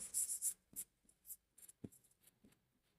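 A pen scratches across paper while a math problem is worked out, in short, quiet strokes with pauses between them, close by and without talk.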